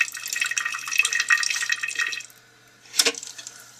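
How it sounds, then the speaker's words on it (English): Water leaking and dripping into a toilet in a first-floor bathroom, heard as a steady trickling drip that stops briefly before one louder, close splash. "Coming in slow, and there's water coming from underneath the toilet bowl."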